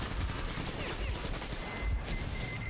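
Gunfire in the Metro Exodus video game, a dense, continuous fusillade of shots over a noisy background.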